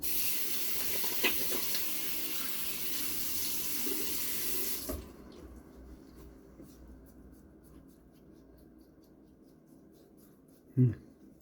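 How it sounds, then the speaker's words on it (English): A Schick Type M injector razor is rinsed under a running bathroom tap, a steady rush of water for about five seconds that then stops, leaving quiet small taps and a brief knock near the end. "Quick rinse off."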